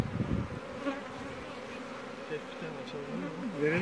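Honey bees buzz at an opened hive, a dense, steady drone from many insects close by, with individual bees whining past now and then.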